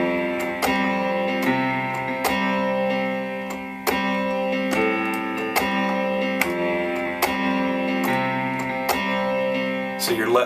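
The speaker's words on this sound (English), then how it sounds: "we're going to let the delay carry a lot of the rhythm of this piano part." A worship piano chorus part on keys with a delay effect carrying the rhythm, steady repeated chords echoing in a regular pulse, loud and close with no talking.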